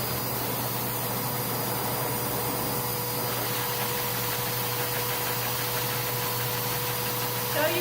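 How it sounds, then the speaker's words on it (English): A loud blow dryer runs steadily as a short-haired dog is dried during a full grooming session, a constant whooshing roar with a low hum that holds throughout without pause. "But I'll show you how I blow dry for a little bit. And it's going to be loud"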